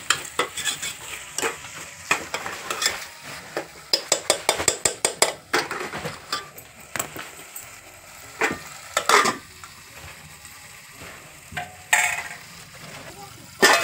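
Fresh pigeon pea grains frying and being stirred in oil for masale bhat, a steady sizzle broken by frequent scraping and clinking of a spoon against the pan, close and fairly loud with no talking.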